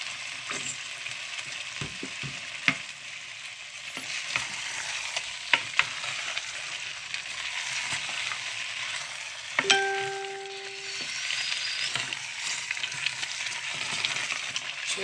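Red palm oil sizzles and fries steadily in a pot of mango sauce, a continuous close hiss broken by occasional clicks and a brief metallic clang, with no voices.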